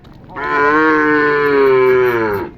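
A bull gives one loud, close, drawn-out moo lasting about two seconds at a bullock cart race, with no other sound around it.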